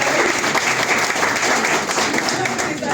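Sustained audience applause fills the room, steady and dense with no pause, rising to honour a man praised for a child's eye treatment at a Yupi Global event.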